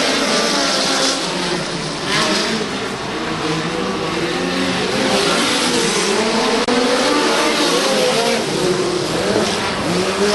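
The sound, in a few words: micro sprint race cars racing at Belle Clair Speedway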